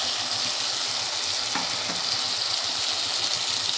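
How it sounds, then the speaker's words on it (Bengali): Fried paneer cubes go into a tomato gravy simmering in a pan, with a steady close sizzle throughout and a couple of brief clinks and scrapes as the pieces are stirred in. "এবার এখানে আমি পনিরগুলো যে ভেজে রেখেছিলাম পনিরগুলো দিয়ে দেব।"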